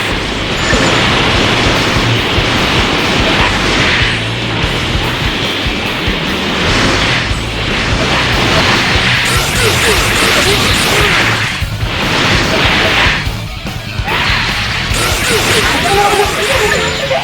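Super attack blasts from the Dragon Ball Xenoverse 2 video game, loud continuous booming explosions and crashing energy bursts that surge and fade repeatedly over several seconds.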